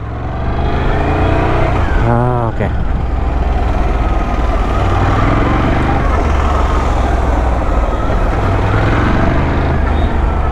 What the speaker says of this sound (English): Wow, horrible traffic.